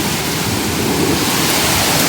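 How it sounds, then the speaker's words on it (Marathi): Heavy rain roars in a dense, constant wash with a low rumble of thunder underneath, loud and unbroken. "एवढा तुफान पाऊस आहे तुफान पाऊस आहे की बस"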